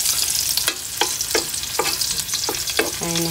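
Onion and garlic sautéing in a pan for a fresh miki noodle dish, with a loud continuous sizzle broken by about seven regular scraping strokes of a spatula, close up with no voices.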